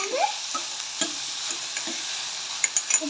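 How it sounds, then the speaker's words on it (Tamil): Onion and tomato being sautéed in a pan, a soft sizzle broken by spaced spoon scrapes and taps, faint and close with no talking. "தக்காளி போட்டு இதையும் தக்காளியும் வதக்கலாம்."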